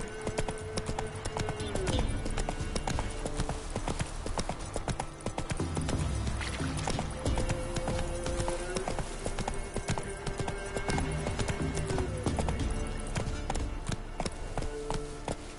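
Roach the horse galloping in The Witcher 3, a fast, dense run of hoofbeats pounding continuously and close up, with a tonal game sound drifting in the background.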